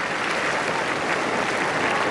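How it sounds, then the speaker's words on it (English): A cricket crowd at a 1992 World Cup match against England breaks into steady applause, a dense wash of clapping from many spectators heard at a distance. "there's applause from the crowd here for Williams for the effort"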